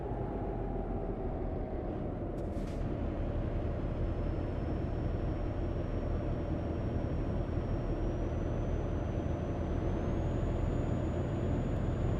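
Truck engine in Euro Truck Simulator 2 slowing down, a steady low rumble with a brief brake hiss near the start and a faint rising whine as the truck eases off.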